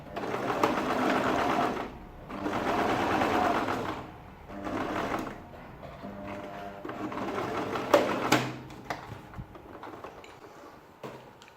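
A sewing machine stitches a ladies' shirt dress in several steady whirring runs of about two seconds each, separated by short pauses and faint handling sounds.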